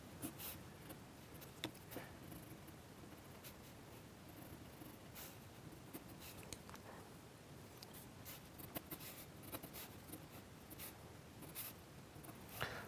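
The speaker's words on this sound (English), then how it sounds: "you just go back in with your 4 or 5B, the heaviest pencil that you've got available" Soft 4B or 5B graphite pencil shading across sketch paper, a steady close scratchy rustle of strokes with small taps and pauses, no voices.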